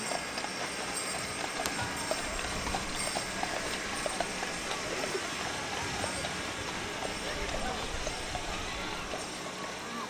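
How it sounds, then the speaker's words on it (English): Hooves of a pair of Belgian draft mares pulling a farm wagon clip-clop steadily in a holiday parade in Montpelier, under a busy outdoor crowd murmur, with a vehicle rumble low in the background. "That's Gary and Kathy Kenny with the farm wagon pulled by a pair of Belgian mares, Fern and Frisky."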